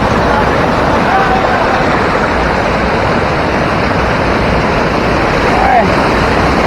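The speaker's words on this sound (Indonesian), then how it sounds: "Ini air terjunnya." A waterfall pours with a loud, constant broadband roar, heard up close and drowning out everything else. Wind buffets the microphone.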